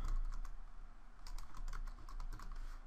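Keys clack steadily on a computer keyboard while LaTeX table code is typed, a close, continuous run of quick keystrokes with no talking.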